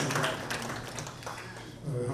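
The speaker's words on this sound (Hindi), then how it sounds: "84 नोट आउट के लिए एक बार जोरदार तालियां।" An audience at an annual day celebration honoring an 84-year-old senior member claps in a dense, continuous burst of applause, fairly close and loud, with a voice speaking over it.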